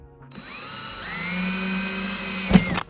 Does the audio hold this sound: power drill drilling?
yes